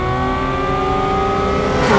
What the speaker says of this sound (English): This is a Cayman making these sounds.